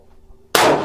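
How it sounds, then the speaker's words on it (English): A single 6mm ARC rifle shot cracks out at a shooting range, one sudden loud blast after a brief quiet hum, its roar lingering to the end. "I'm going to hold dead center for the first shot"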